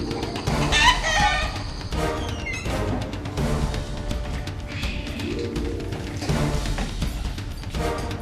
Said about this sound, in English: here's your chicken. Dude, it's alive